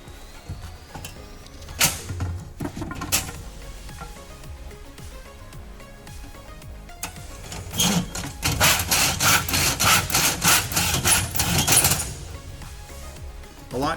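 Hand tools working wood for a folding stool: scattered scrapes and knocks early on, then a sustained stretch of steady back-and-forth sawing strokes with a close, rasping rhythm, no talking.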